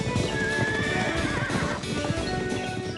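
Horses whinnying loudly while hooves clip-clop in a busy, continuous flurry, close and prominent with no speech.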